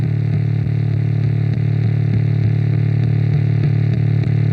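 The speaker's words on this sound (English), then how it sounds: "the sine wave with the white noise that Mick Gordon did in the original Doom 2016" A synthesized bass made from a sine wave layered with white noise, in the style of the Doom 2016 soundtrack, plays as a loud, steady, buzzy drone with faint rhythmic pulses running through it.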